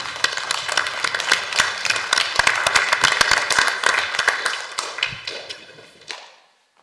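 Attendees at a municipal council installation meeting in Ploemeur applaud the new deputies, sharp individual claps building into lively applause before thinning out and ending abruptly.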